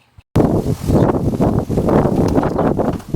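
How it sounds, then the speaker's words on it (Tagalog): Strong wind buffets the microphone in loud, rumbling gusts after a brief silent start, rising and dipping continuously, in a rural area of the Philippines. "So naririnig nyo guys ang ingay ng hangin."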